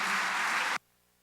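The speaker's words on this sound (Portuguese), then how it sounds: "pode aplaudir bem forte aí" Loud, dense applause from a church congregation during a sermon, sustained evenly and then cutting off abruptly partway through.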